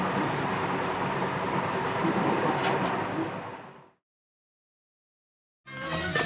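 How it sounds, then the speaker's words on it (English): A rumbling train rolls past up close, a dense roar that fades out abruptly into silence before a brief burst of sound returns. "All aboard the night train to Cairo."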